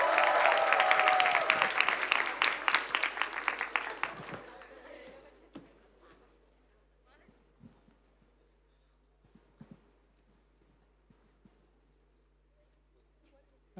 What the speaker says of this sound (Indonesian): Kita mau sambut sama-sama dengan tepuk tangan yang meriah